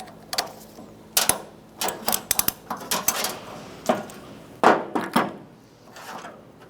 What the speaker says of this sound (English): grab a pair of pliers and remove that off the back of that bolt.